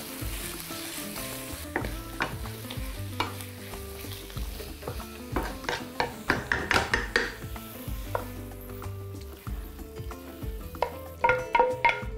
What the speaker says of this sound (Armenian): Եվս մեկ անգամ լավ խառնենք և լցնենք աղացած մսի վրա